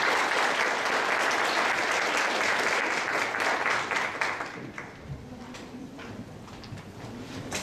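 Loud sustained applause from an audience at a student team presentation contest, dense clapping that fades after about four seconds into scattered claps and room murmur.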